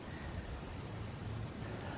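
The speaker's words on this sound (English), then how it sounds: "It is starting to rain" Light rain beginning to fall outdoors at a tidal shore, a steady soft hiss of drops on surfaces with no distinct individual patters, alone and unbroken throughout.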